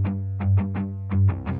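A dark, upbeat music sample run through distortion and dynamic EQ that cuts the highs and boosts the lows, playing as short rhythmic bursts of gritty, chorused tones over a steady low drone, loud and alone.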